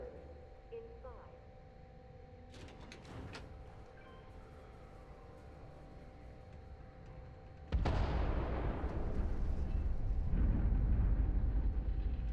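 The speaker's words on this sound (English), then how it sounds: "those big explosions like that don't leave you feeling very comfortable in your surroundings" Explosions in Starfield: quiet ambience with a brief burst of crackling, then a loud, heavy blast erupts and rumbles on through the rest, deep and sustained.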